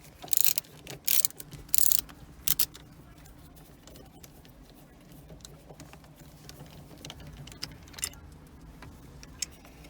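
A Phillips screwdriver takes screws out of the automatic shift boot of a 2011 Honda Civic LX, giving a cluster of loud clicks and ratcheting taps early on, then quieter faint ticks against a low hum.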